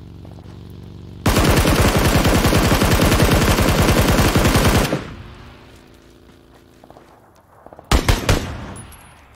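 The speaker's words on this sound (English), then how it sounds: "I'm shooting the two guys on the buggy." Rapid automatic gunfire rattles loudly and continuously for a few seconds in an Xbox One battle royale game, then fades to quieter background before a short second burst of shots near the end.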